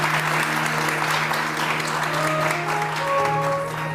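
Studio audience on a Pakistani entertainment TV show breaks into sustained clapping, an even wash of applause held at full strength for the whole stretch with a steady musical tone humming underneath.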